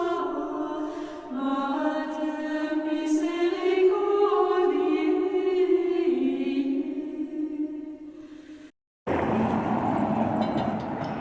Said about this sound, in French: Prenons maintenant le dernier tramway Electrico pour nous rendre sur les hauteurs de la ville